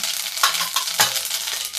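Crackling sizzle of seeds spitting in hot oil, close and steady, with a couple of sharper pops and scraping stirs.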